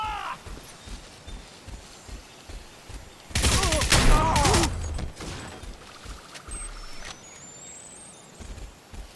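Unsuppressed rifle fire in the video game Crysis Remastered crackles in a short, loud burst of rapid shots mid-clip, set against quieter in-game ambience and soft scattered footsteps.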